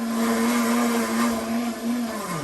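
A blender found in a dumpster runs loudly and steadily with a high whining motor hum, pitch dropping slightly near the end as the motor slows.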